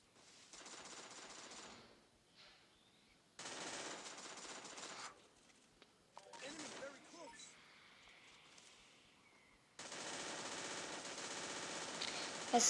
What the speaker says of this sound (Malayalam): നമ്മൾ ചറപ്പറ വെടിയൊക്കെയാണ് ഗൈസ്